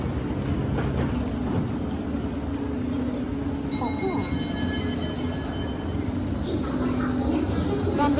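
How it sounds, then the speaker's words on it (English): Continuous rumble of a Singapore MRT Circle Line train in motion, with brief high metallic squeals midway and muffled voices underneath. "we are riding on the MRT."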